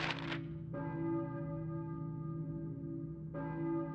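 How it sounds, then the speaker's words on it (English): A school bell rings out in the Silent Hill video game with sustained, resonant metallic tones that swell and repeat, loud and alone, with no speech. "Okay, so the school bell's ringing."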